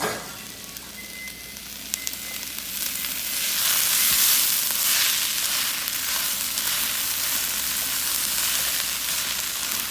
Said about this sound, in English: I got to get in our shiitake mushrooms. Those are going to cook a while.